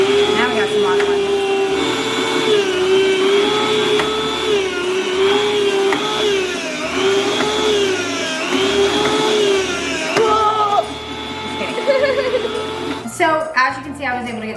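An electric meat slicer whirs steadily as it cuts nitrate- and nitrite-free bacon, its motor hum rising and dipping with each pass before cutting out near the end; someone talks over it.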